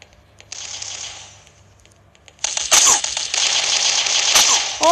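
M240 machine gun fire in the mobile shooter 全民槍戰, heard as a brief burst early on, then a sustained dense rattle of rapid shots with clicks and metallic clatter over the second half.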